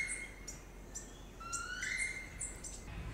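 A red-necked Amazon parrot calls in a Dominica forest: several short, high chirps and whistled notes repeat against a steady, faint background hiss, with no voices.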